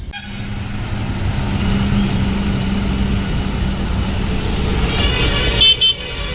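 Steady roar of heavy vehicle traffic stuck in a long jam on the Guma Ghati mountain road near Rayagada, with a sustained horn blaring and brief high honks near the end, loud and continuous throughout.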